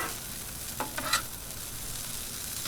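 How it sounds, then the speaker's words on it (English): Cooked rice stirred into vegetables on a 22-inch Blackstone griddle, a faint steady sizzle with a few soft scraping strokes of the spatula near the start. "So we just want to incorporate that rice into our veggies."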